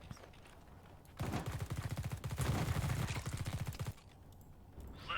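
Bursts of rapid automatic gunfire from The Red Solstice, a space marine tactical game, rattle loudly for several seconds before cutting off, with quieter game ambience before and after.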